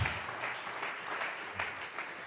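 A church congregation claps together as an offering of praise during a Tuesday Bible study service, a steady wash of hand claps with a few louder bursts, continuous and fairly distant in a reverberant room.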